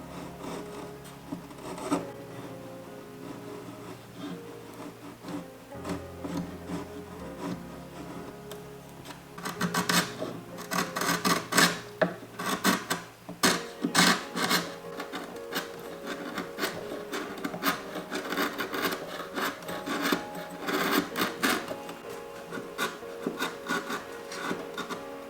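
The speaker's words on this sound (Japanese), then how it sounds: "あとは積層隠しの部材をきれいに削っていきます。" Rasping strokes of a file shaping a layer-hiding piece on a wooden Gundam model's louvered duct, with quiet scraping at first, then dense, fairly close rhythmic filing through the second half.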